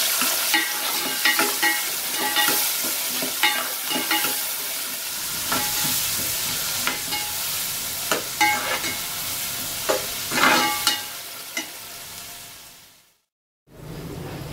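Onions sizzle in butter in a pan while a spatula scrapes and stirs in repeated clicks, close up; the sizzle cuts out briefly near the end.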